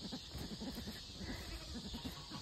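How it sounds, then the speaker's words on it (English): A goat stands on the roof of a homestead farm and bleats. The calls are faint and come in rapid pulses over a steady background hiss. "Goosey, we got a goat on the roof."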